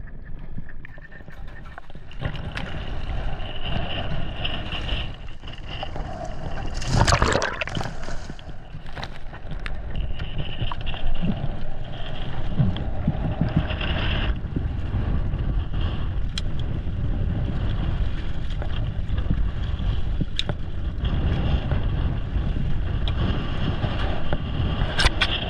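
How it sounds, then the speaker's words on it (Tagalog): A boat out at sea in big waves during a rough southwest monsoon on a Philippine spearfishing trip: a steady, loud rumble of engine, water and wind noise runs throughout, with a sharp crash of spray near the start. "Ang lalaki na talaga ng alon."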